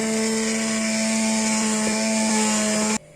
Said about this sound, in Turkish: Pürüzsüz bir kıvam alana kadar blenderdan geçiriyorum.